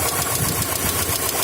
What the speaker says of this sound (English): The Subarus always have a bit of a tick. This one's just kind of loud.